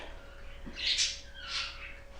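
A small bird gives a couple of soft, faint chirps in quick succession against a quiet, humming background.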